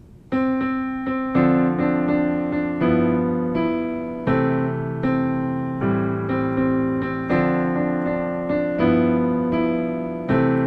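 Piano chords played with both hands, a bass note and a chord struck together on each change, moving through a slow jazz progression of a standard, clear and close.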